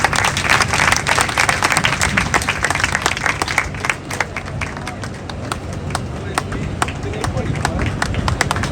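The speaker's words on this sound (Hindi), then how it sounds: "उनका भी जोरदार तालियों से स्वागत करेंगे।" A crowd at a clerks' strike rally in Sonipat, India claps loudly and continuously, dense applause throughout with sharp individual claps standing out, and voices murmuring underneath.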